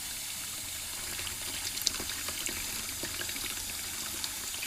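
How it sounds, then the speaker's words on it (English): Water running steadily from a faucet into a rock tumbler container holding dirty brass-cleaning water, a continuous hissing, splashing flow with small drips and trickles, close and alone. "Turn faucet on to draw dirty water out of the container."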